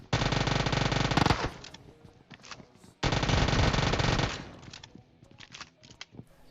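Uzi fire in an online shooter game comes as two long, loud, continuous automatic bursts, each trailing into scattered distant shots and clatter.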